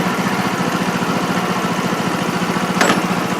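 A GY6 Taotao VIP Powermax scooter engine runs with a steady, close, rhythmic chugging idle. A brief sharp click sounds near the end.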